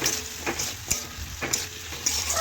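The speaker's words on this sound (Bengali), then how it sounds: "এই দেখুন এইভাবে একটু কষে নিচ্ছি।" Fish-head vegetable curry with potato, carrot and long beans sizzling as spices are cooked down in a pan, with a steady hiss broken by several sharp stirring scrapes at regular intervals.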